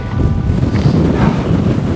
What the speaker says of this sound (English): See if I can get down out the wind a little bit.